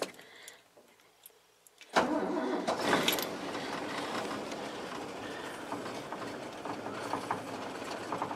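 A car engine starting from dead cold: quiet clicks and key sounds, then at about two seconds the engine cranks and catches, settling into a steady, loud, close idle.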